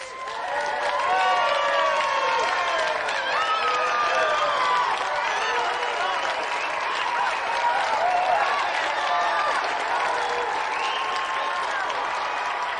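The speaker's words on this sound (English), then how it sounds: "Give him a round of applause" A studio audience claps and cheers in sustained applause on a TV game show, loud and even, with faint voices mixed in throughout.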